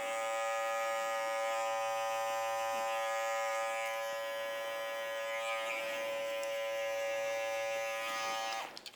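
T-blade electric beard trimmer running close up, a steady high-pitched tonal buzz that holds for about nine seconds before cutting off with a few clicks at the end.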